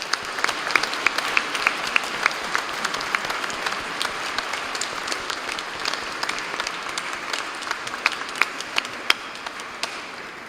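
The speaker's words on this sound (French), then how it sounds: "je pense qu'on peut s'applaudir tous les uns et les autres pour ce qui a été donné" A church congregation applauds at the close of a Rite of Election celebration, many hands clapping in a full, lively burst with sharper individual claps standing out near the end.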